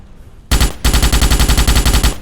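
Rapid automatic gunfire from a spread-shot gun in the Starship Troopers video game, a short single shot followed by a loud, fast, even burst of rounds lasting under two seconds.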